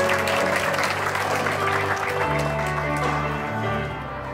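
An audience at the founding assembly of a Gyeongbuk labour rights centre applauds to welcome the event's organiser to the stage. Sustained clapping mixes with background music and tapers off near the end.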